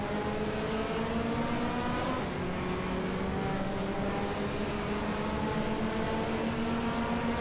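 A 2013 Ford Mustang race car engine drones steadily in a racing video game, a sustained mid-distance roar with gently shifting pitch and no talk, fairly quiet throughout.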